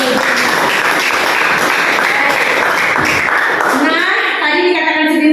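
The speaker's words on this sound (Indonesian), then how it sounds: "Berikan dulu tepuk tangan." A classroom audience claps after a student's presentation on payment methods. Dense, steady clapping fills about four seconds, then thins out while a voice and tonal sounds take over near the end.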